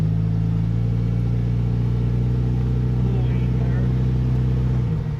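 An old Volkswagen Beetle driving under load after refuelling with premium fuel, a loud steady low engine drone from inside the car that holds constant before easing off at the end, with a voice talking over it.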